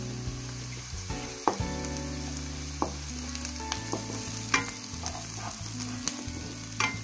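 Crushed garlic frying in a pan for a brinjal and dry prawn curry, a quiet steady sizzle with scattered sharp taps of stirring and faint background tones, no voices.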